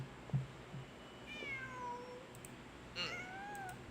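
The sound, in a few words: cat meowing in Genshin Impact video game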